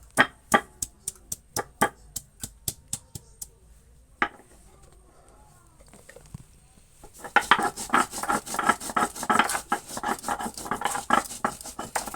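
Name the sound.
grinding cumin, ginger, green chili and onion into paste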